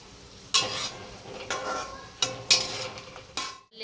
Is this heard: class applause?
no